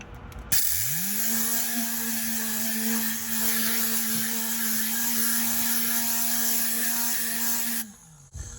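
A Tornador air-powered cleaning tool spraying disinfectant onto vehicle upholstery and seat belts spins up to a steady, high whirring hiss, holds it for about seven seconds, then winds down and cuts off.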